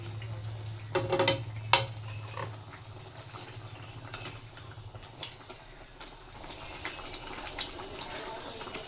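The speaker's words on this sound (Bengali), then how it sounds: "এবার আমি মাছগুলো তুলে দিচ্ছি।" Pabda fish slid into boiling curry gravy for a spicy oil-based fish jhal, with a few clattering pan knocks and splashes over low bubbling, then quieter simmering, no clear speech.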